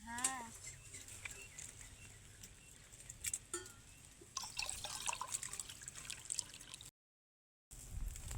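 In a farm field during a dry pigeon-pea harvest, water is poured for drinking as a short, close trickle and splash. People talk nearby and outdoor background noise is present.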